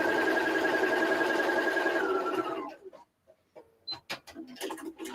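A sewing machine runs steadily for over two seconds, stitching a seam with a fast, even whirring hum. It then stops, and a few short clicks and handling noises follow.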